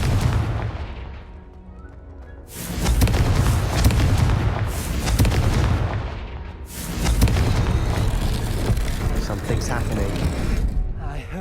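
Spell blasts in the Hogwarts Legacy video game: two heavy, booming explosions from the Confringo fire spell, each a loud sustained burst with rumbling tails, layered over game music and effects, with brief voice lines.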